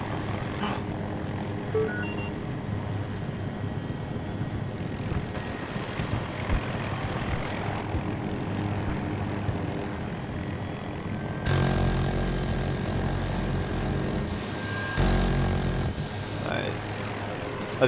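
Helicopter in a multiplayer video game, a steady rotor and engine drone that swells louder in bursts near the end, with players talking over it.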